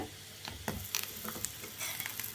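Traditional aama vadai fry in hot oil in a pan, giving a soft, continuous sizzle with scattered small pops and ticks, quiet and steady throughout.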